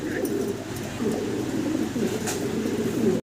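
Lahori pigeons at a pigeon farm give a steady low cooing that carries on throughout, with faint chirps and soft background noise mixed in.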